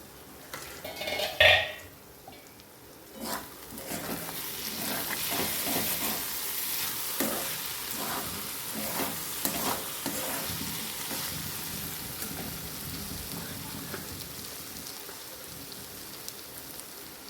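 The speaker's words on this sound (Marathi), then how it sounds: "आता आपण बघूया भाजी एकदा हलवून बघूया" Cluster bean vegetable cooking in a pan after steaming under a lid, stirred with a few clanks of the utensil, then a steady soft sizzle with scattered scraping strokes.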